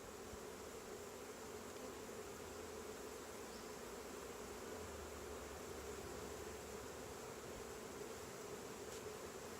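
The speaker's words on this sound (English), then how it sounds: "Oh, lots of bees, lots of bees." Bees buzz continuously during a beehive inspection, a dense, steady drone close by that stays even throughout with no talking.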